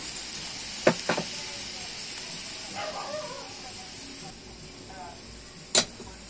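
Meat in a pan sizzling with a soft, steady hiss as a little water is added, with a few sharp clatters and a brief crackle. A voice can be heard faintly in the middle.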